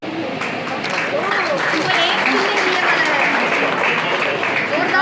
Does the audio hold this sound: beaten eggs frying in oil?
no